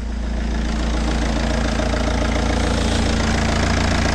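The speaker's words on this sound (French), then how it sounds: "Une fois que la voiture tourne" A car engine idles steadily while air is bled from its cooling system, giving a loud, constant low rumble with a faint knocking pulse and no voices.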